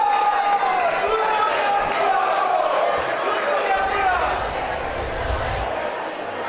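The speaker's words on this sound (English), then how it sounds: "that elicited some Italian cheers from the crowd" Crowd at a bocce match at the World Series of Bocce in Italy, a steady murmur of voices and scattered cheering with commentary talk running over it throughout.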